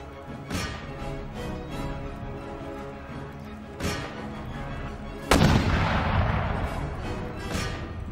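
Artillery and musket fire boom through an Empire: Total War battle during an assault on Courland, with several loud cannon blasts spaced seconds apart over a continuous rumbling din of gunfire.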